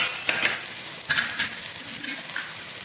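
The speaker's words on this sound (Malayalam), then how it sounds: "ഇതെല്ലാം കൂടെ ഇട്ടതിന് ശേഷം ഒന്നുകൂടെ അതിൻ്റെ ഈ പൊടികളുടെ എല്ലാം പച്ചമണം മാറുന്നത് വരെ ഒന്ന് മൂപ്പിച്ചെടുക്കുക" Spice powders, turmeric, Kashmiri chilli, plain chilli and pepper, roasting in oil in a pan for Kerala fish curry, a soft continuous sizzle with a few scraping stirs of a spoon against the pan.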